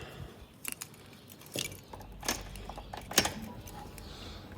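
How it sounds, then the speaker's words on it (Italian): A set of keys for a scooter jangles in a few separate metallic bursts close by, brief clinks and rattles spaced across a quiet workshop background. "Ecco le chiavi."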